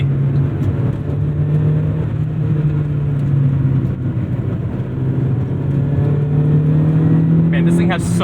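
A 1998 Honda Civic Type R EK9 engine pulls hard under load while driving, a steady high-revving drone with rising pitch heard from inside the car, with someone talking over it.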